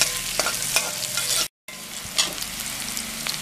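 Cut onions with a pinch of salt sizzle in hot oil for street-style mushroom noodles. Loud, close frying hiss is broken by several scraping stirs, and there is a brief gap midway.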